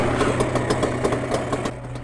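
A Yamaha Banshee engine idles after a carburetor sync, its loud, close, steady rumble with a regular pulsing beat and no talking.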